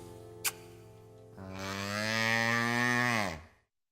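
A cow moos loudly within a children's novelty song, one long sustained low bellow over steady musical accompaniment after a brief click.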